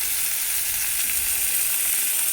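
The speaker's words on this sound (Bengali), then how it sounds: "এখানে সরিষা দিয়ে বানাচ্ছি তাই এখন এই সময় দিয়ে দিলাম জলটা।" Water poured into ridge gourd frying with mustard for a bori curry, producing a loud, continuous, hissing sizzle that holds steady throughout.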